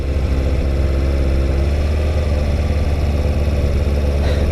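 A motorcycle engine runs steadily at low revs in winter rain as the rider eases off the throttle, producing a loud, continuous low rumble with no talk over it.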